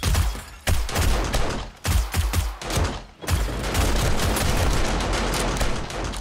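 Automated turrets in the survival game 7 Days To Die blast away during a horde night, with dense rapid gunfire bursts separated by short gaps, then a sustained loud stream of shots with no talking.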